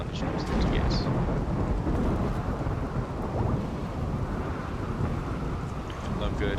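A rainy thunderstorm in the colony-building game RimWorld: heavy, continuous rumbling thunder with steady rain and wind noise, loud and enveloping throughout, with no voices over it.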